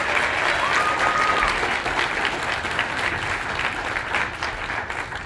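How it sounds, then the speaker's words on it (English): An audience at a National Civics Bee in Buena Vista, Colorado gives a contestant a round of applause, with steady, moderately loud clapping that eases off slightly toward the end. "Give her a round of applause"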